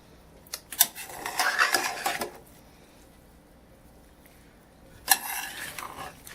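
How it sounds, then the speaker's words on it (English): Spanish rice being mixed in a pan: two bursts of scraping and stirring, the first about a second and a half long and the second brief, separated by near silence, with no talking. "Just mix it all in there."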